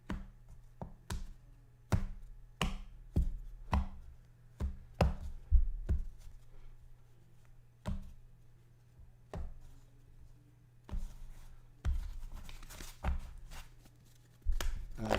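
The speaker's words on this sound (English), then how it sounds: "That should be pretty shuffled there." Playing cards are shuffled by hand at a tabletop football game. Crisp, close snaps and taps come in irregular clusters, ending in a denser, rustling riffle, with no talk.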